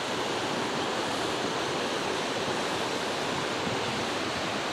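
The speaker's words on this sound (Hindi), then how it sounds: "पानी का भी बहाव इतना तेज़ है भी आदमी तो खड़ा भी नहीं हो सकता है" Fast-flowing flooded river near Gurudwara Tokka Sahib, sweeping along large boulders: a loud, unbroken roar of rushing water filling the whole clip, steady and close, with no voices.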